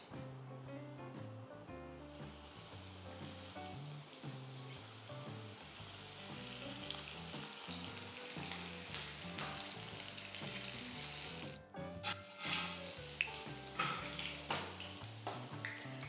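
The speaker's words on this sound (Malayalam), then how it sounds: "ഇനി നമുക്ക് ഓരോന്നും ഫ്രൈ ചെയ്തെടുക്കാം" Stuffed chillies fry in hot oil, giving a steady, dense sizzle close by that lasts throughout, with a brief dip and a few sharper crackles near the end.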